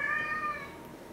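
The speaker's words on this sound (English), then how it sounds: "that's my cat." A house cat gives one short, clear meow, fairly close and alone over faint room noise.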